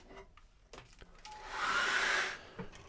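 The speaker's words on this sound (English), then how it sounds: "And now, I'm going to dry that with a hairdryer." A hairdryer blows on wet acrylic paint of a mountain landscape, a loud broadband rushing whoosh that swells in for about a second and then cuts off, with faint handling clicks around it.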